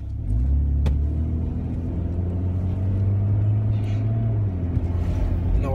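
Car engine rumbling steadily during a drive home from the mall, a constant low drone close inside the cabin with a slight rise in pitch and no talk over it.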